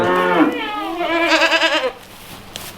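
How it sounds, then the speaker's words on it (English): Baby goats on a farm bleating in the rain, two loud wavering cries in quick succession close by, followed by a quieter pause. "the crying baby goats whining"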